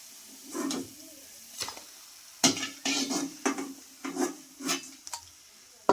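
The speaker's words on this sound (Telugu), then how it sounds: "చూడండి బౌల్లో అయితే వేసేసుకుంటున్నాను నేను" Fried gobi 65 (crispy cauliflower) is served into a bowl: a series of scraping and clinking strokes of a utensil against cookware, spaced irregularly, close and moderately loud.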